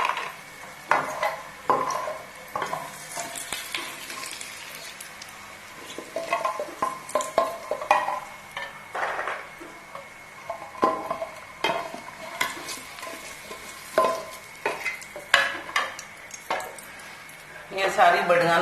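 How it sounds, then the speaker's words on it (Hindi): Ginger-garlic paste hits hot oil left from frying lentil dumplings and is stirred in a pan, giving soft sizzling under repeated scrapes and clinks of a spoon against the cookware. "इसी ऑयल में जो पेस्ट बनाया हुआ है अदरक लहसुन का वो डालूंगी"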